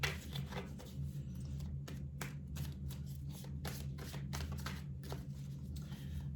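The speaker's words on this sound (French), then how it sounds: "on va recouvrir les cartes centrales de la ligne centrale" Tarot cards being laid out and covered during a reading, quick soft slaps and shuffling snaps of card stock in an irregular rhythm, close and fairly quiet, with no talking.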